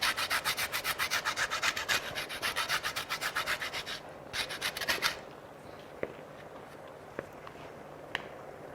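Orange zest being grated for cranberry sauce: a fast, rhythmic run of raspy rubbing strokes, close and fairly loud, that stops abruptly, leaving quiet room tone with a few small clicks.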